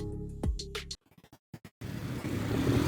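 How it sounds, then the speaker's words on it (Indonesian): Busy street traffic with vehicles passing, picked up by a compact wireless clip-on microphone (Hollyland Lark A1 or DJI Mic Mini) at the roadside: a brief choppy, broken-up stretch gives way to a steady, loud roar of passing cars that runs to the end. "suara kendaraan lalu lalang kendaraan ini cukup berisik."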